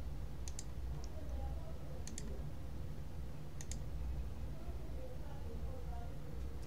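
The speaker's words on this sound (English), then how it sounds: "As you see here, I'm just clicking the icons here to the left." A computer mouse clicks on desktop icons under Linux Mint 12 KDE, a few sharp, quick clicks in small clusters spaced a second or so apart over a low, steady background hum.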